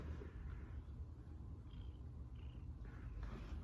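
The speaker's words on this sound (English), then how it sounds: "She's on my knee purring." A cat purring steadily while resting on a person's knee, a faint, low, continuous rumble that stays even throughout, with no other sounds over it.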